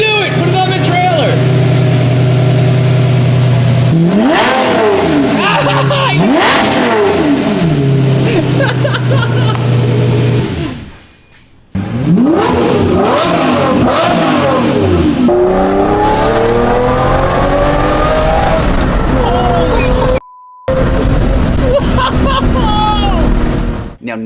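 A totaled Lamborghini's engine runs loud and close, its revs repeatedly climbing and falling in sharp sweeps, with only brief drops in the sustained roar.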